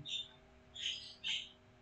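Faint high-pitched bird chirps come in three short bursts against a quiet background hum.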